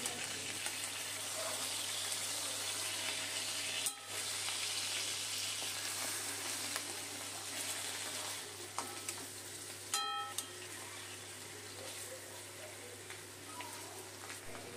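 Bottle gourd leaves wrapping rui fish paturi fry in hot oil in a pan, giving a steady, even sizzle throughout with a couple of brief clinks and a short break.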